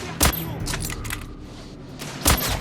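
Sniper gunfire in The Order: 1886 on PS4: two sharp, loud reports roughly two seconds apart, each ringing out briefly over a low background battle rumble.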